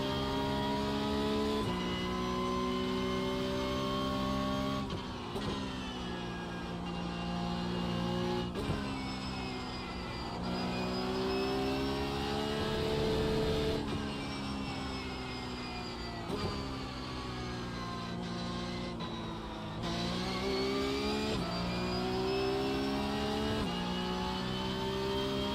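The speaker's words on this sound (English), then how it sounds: "Porsche race car sounds is always just a lot of transmission whine." Porsche Cup race car in iRacing, its engine revving and dropping through repeated gear shifts with a strong transmission whine layered over the engine note, loud and continuous with no talk.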